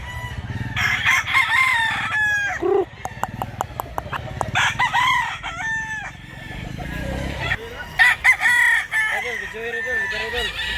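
Roosters crow repeatedly and hens cluck among a group of chickens bought for transport, with overlapping calls near and far and people talking in the background.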